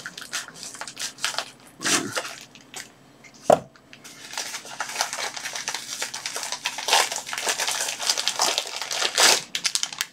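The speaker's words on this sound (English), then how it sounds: "So I'm just gonna cut this one open." A blade cuts open a mail package of USB cables from AliExpress, with close crinkling plastic and tearing wrap, a sharp snap partway through, and continuous rustling handling noise.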